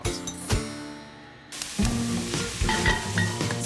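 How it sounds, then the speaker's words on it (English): Onion sautéing in oil in a pan for a venison bolognese, a bright sizzle that swells as the onion hits the oil, with stirring and scraping clatter, close and fairly loud. "First thing you want to do is just put in your onion and some oil and saute that 6 to 8 minutes"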